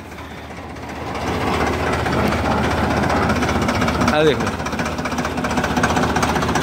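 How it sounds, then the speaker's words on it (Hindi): A tractor engine on 13.6-28 rear and 7.50-16 front tyres runs with a steady, close, knocking diesel chug. Someone talks over it. "कितनी वधिया आवाज़ है ट्रैक्टर की"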